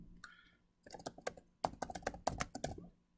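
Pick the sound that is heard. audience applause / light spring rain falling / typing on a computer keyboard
typing on a computer keyboard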